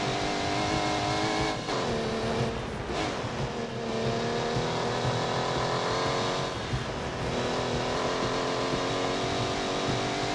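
A car in The Grand Tour video game races and accelerates, its engine whining through rising gear changes with clear revs climbing and dropping, a loud, continuous motor note.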